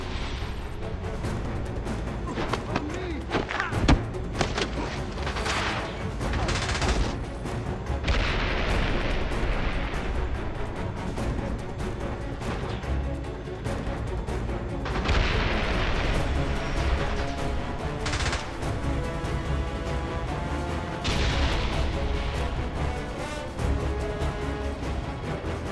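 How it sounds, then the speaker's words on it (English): Missiles firing and exploding in the PC game James Bond 007: Blood Stone: repeated heavy booms and rumbling blasts over a dense, loud action soundtrack, with no talk. "James, he's firing missiles."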